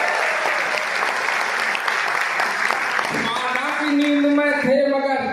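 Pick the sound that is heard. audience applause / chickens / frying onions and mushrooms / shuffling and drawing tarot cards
audience applause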